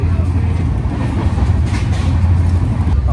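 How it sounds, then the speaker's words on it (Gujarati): The Karnavati Express runs at about 90 km/h, a steady loud rumble of wheels and carriage with constant low roar and faint rhythmic clatter, heard from inside the coach. "ફરીથી આપણી ટ્રેને સ્પીડ પકડી લીધી છે"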